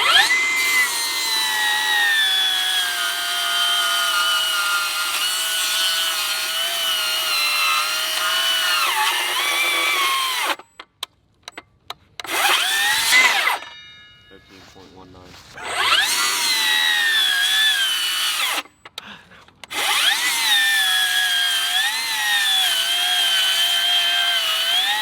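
A Milwaukee cordless circular saw cuts through wood, its high motor whine running steadily with pitch dips under load, broken by brief pauses and a quieter stretch before resuming.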